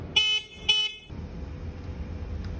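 Two short car horn honks in quick succession, loud and close, followed by a low steady rumble of traffic or an idling engine.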